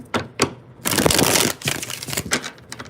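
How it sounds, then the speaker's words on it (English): Tarot cards being shuffled by hand at close range: two quick crisp snaps, then a longer dense riffling burst and a looser, patchier run of card rustle afterward, with no talking. "So one more shuffle."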